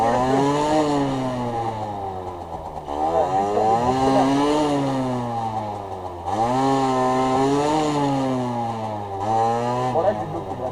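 A motorcycle braking hard to warm its rear tire, with the engine note repeatedly dropping and climbing in strong, steady harmonics across several close, loud revving swells.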